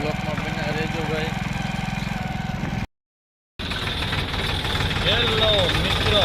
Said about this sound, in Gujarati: તો નીકળી ગયા છે મોટરસાઇકલ લઈ